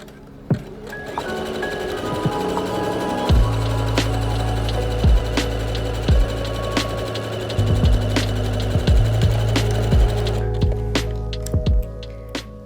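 A sewing machine runs a stretch stitch along a short edge of a knit top, a steady close motor drone in several runs broken by brief stops and needle clicks.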